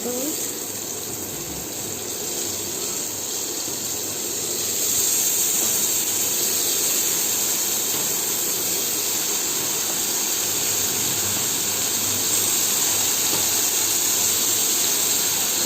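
Brinjal cooks in a pan with a constant, close hissing sizzle that swells slightly after a few seconds and stays even, with no talking over it.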